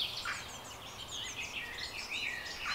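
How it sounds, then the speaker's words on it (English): Birds chirp and sing continuously in high, overlapping trills and tweets, fairly soft, over a low steady rumble of background noise. "just sitting here listening to the birds and the bees"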